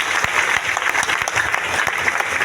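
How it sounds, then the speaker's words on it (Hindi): Audience at a large live stage event in Latehar, Jharkhand, claps steadily and loudly, a dense wash of many hands with no pause throughout. "वाह, जबरदस्त ताली होना चाहिए।"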